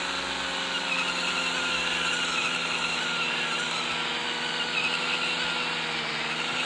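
Steady, continuous engine and tire-squeal drone from a drifting car in the racing game Project Drift 2.0, holding at an even level throughout with no speech.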